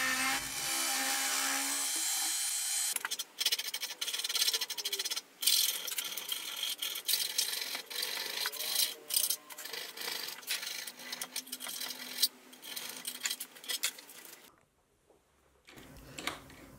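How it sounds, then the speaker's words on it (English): A high whine of a drill cutting holes in metal, followed by a long stretch of end milling the holes into slots, with scraping, chattering bursts and brief pauses. "I'll drill 4 holes and then open them up with an end mill to create 4 slots."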